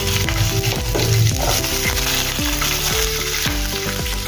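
Ginger and garlic cloves dropped into hot oil with cumin and mustard seeds for a baigan dish, a dense continuous sizzle and crackle, loud and close, with music playing throughout.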